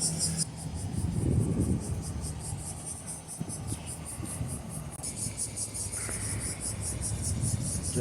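Crickets chirp in a pulsing, steady rhythm through a rose garden park beside a river in Osaka, a continuous high trill under low ambient rumble and distant murmur throughout.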